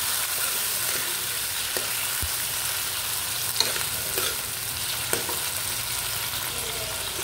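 Onions and tomatoes sauté in oil for a Filipino pinakbet, giving a continuous, even sizzle up close, with occasional soft clicks from a utensil stirring the pan.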